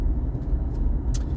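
Road traffic rumbles past in a low, steady wash, with a brief hiss near the end that may be an air brake; no one speaks.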